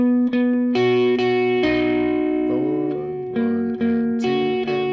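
An electric guitar plays a slow lead line from a song through effects, with distortion and chorus-like shimmer, sustained notes changing every half second or so, loud and steady with no voice.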